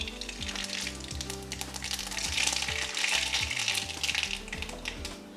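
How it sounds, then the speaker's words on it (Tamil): Mustard seeds sizzle and crackle in hot oil heated for a Tamil kovakkai (ivy gourd) kuzhambu, a steady, busy frying hiss that swells midway and stays close and loud with no voices. "எண்ணெய் காஞ்சிருச்சு. இப்போ கடுகு போடலாம்."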